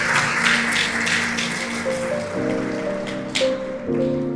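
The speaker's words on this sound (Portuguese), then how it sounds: "Aplauda ele em nome de Jesus." A church congregation applauding during a worship service, a dense, continuous patter of clapping hands under sustained organ or keyboard chords.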